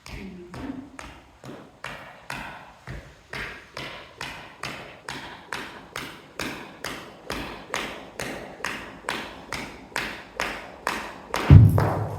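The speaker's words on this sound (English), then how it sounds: "I'm not hitting her hard, it's just tapping." Light, even taps on a horse repeat about twice a second, over twenty soft thumps in a steady rhythm, close by, with a brief louder knock near the end.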